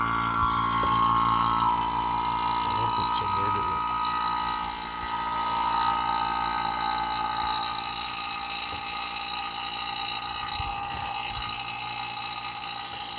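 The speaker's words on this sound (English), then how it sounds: "I got the vacuum pump running" A vacuum pump runs steadily on a 2009 Toyota Corolla's A/C system, a continuous mechanical drone with a high whine and ratcheting texture that stays loud and even throughout.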